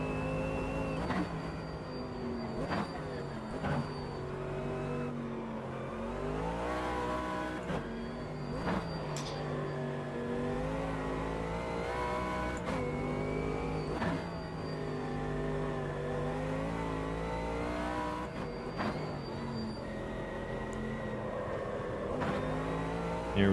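Race car engine in Automobilista 2 on the Nordschleife, revving up and down through gear changes in a continuous loud drone with repeated sharp shifts, no talking.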